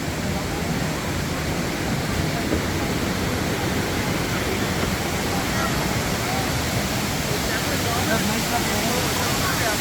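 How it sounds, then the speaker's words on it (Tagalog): Steady, dense rush of a waterfall at a tourist spot in Vietnam, loud and unbroken throughout, with faint voices of people mixed into the roar. "Dito pala yung waterfall, no?"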